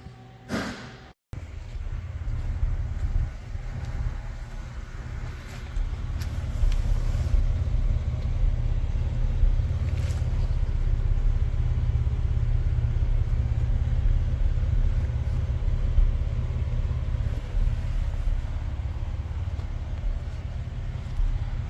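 A 3400 V6 car engine running with a newly fitted resonator exhaust, a steady low rumble that holds close and continuous after a brief knock at the start, with no talking.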